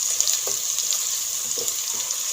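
Onions frying in a pan for achari baingan, a steady close hiss of sizzling oil with a few faint stirring clicks and scrapes, no voices.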